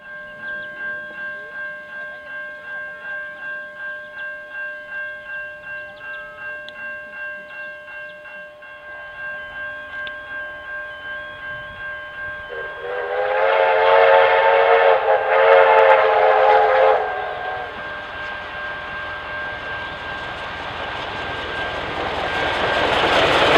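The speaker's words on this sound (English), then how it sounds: "Following a stop at Lara, we see the train at Little River." K160 steam locomotive passing at Little River, a steady rumbling run with a loud surge of whistle-like tone and hiss midway, then a fading rolling rumble.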